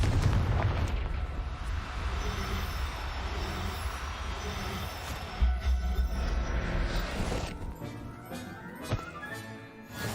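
Confringo blasting spell explosion in the Hogwarts Legacy video game, a heavy booming blast with rumbling debris that settles and fades over several seconds, with a few smaller thuds after.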